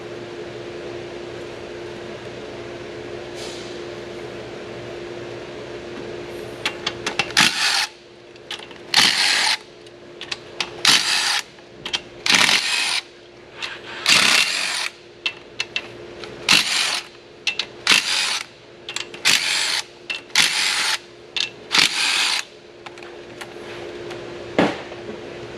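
A ratchet wrench backs out 10mm bolts on a Hyundai Kona engine during timing system repair, with a faint hum at first, then repeated bursts of close, rapid clicking separated by short pauses.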